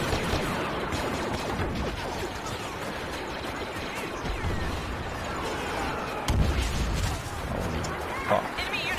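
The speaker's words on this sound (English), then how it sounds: "Explosions everywhere." Explosions and gunfire fill a Star Wars Battlefront battle, a constant dense roar of blasts with louder bursts near the end, while players talk over the combat.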